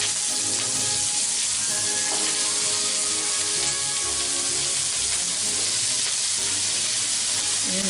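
Thick blocks of bean curd fry in a pan with a constant, close sizzling crackle that holds at an even level, with no talk.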